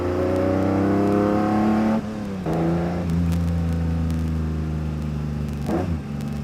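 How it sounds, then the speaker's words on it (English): A Ferrari Testarossa engine drones loudly and close, its rich harmonic roar dipping and rising as the revs change, with a brief swell near the end and no talking over it. "Ferrari Testarossa there, what a wonderful car."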